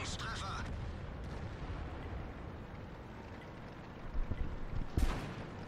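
Tank cannon fire in World of Tanks, with a Conway firing at an FV: a single sharp, heavy boom near the end over a constant low battle rumble, with someone talking underneath.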